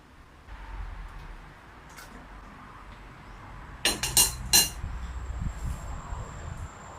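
Eggs with shells disinfected with povidone iodine are cracked open on a dish with a spoon. A quick cluster of sharp clinking taps comes partway through, over a quiet room background.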